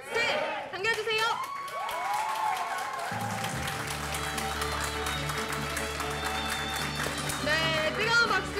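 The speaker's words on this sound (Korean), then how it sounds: "뜨거운 박수 계속 부탁드립니다" Warm applause and cheering from an audience at a Jeju MBC radio show award ceremony. The clapping is loud and continuous, with whoops early on and a band striking up beneath it partway through.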